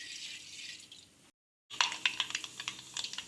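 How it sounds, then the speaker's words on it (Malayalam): Mustard seeds crackling in hot sesame oil, a hiss that cuts out briefly before a run of sharp close pops and spits in quick irregular succession. "നമ്മുടെ കടുക് പൊട്ടി വന്നിട്ടുണ്ട്."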